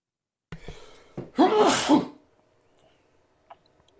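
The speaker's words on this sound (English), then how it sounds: "We heard you sneeze, bless you." A single close sneeze, a short sharp intake followed by a loud voiced burst, then quiet.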